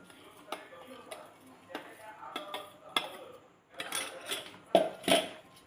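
A spoon stirs ground mustard and flour into chopped green chilli pickle in a bowl, with quiet scrapes and several sharp metallic clinks, close by, while a person talks.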